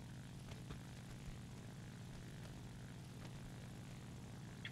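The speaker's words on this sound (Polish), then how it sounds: "No co to takie szybkie są te samoloty?" Propeller warplane in the War Thunder game drones past with a steady, even engine hum, a constant low roar at moderate level with no talk.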